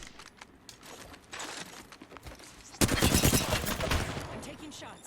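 Rapid automatic gunfire from the video game Apex Legends starts as scattered, quieter shots, then becomes a loud, dense stream of bursts partway through. Faint voices and clicks sit under the firing.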